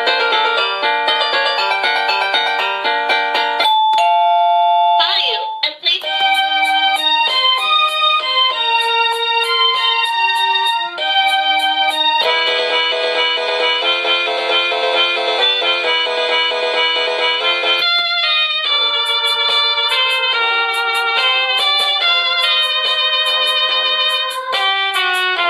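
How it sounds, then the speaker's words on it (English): Marsboy 4-in-1 wireless digital doorbell chime cycling through several bright electronic melodies at maximum volume, one tune after another with brief gaps, loud and close with no talking. "Just to give you a demonstration of the tunes, the fidelity is actually extremely good considering the size of the unit"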